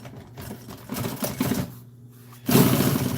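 Sewing machine stitching upholstery for an old military jeep seat, close and steady whirring in short runs that pause briefly, then resume louder.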